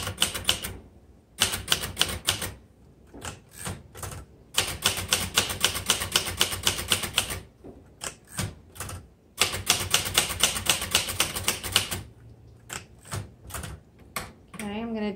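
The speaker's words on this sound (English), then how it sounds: "So let's just keep typing through." A 1966 Royal Safari vintage typewriter clatters through fast bursts of crisp key strikes separated by short pauses, close and loud, with a carriage-return ding near the end.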